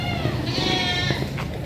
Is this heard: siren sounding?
no